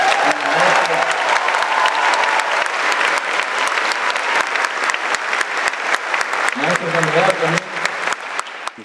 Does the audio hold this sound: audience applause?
yes